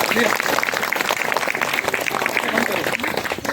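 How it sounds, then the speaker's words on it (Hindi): Audience at a Hindi-language Christian healing prayer gathering in Tuna Pahad clapping loudly and steadily, a dense continuous applause with voices mixed in throughout. "जोर से एक बार ताली बजाइए।"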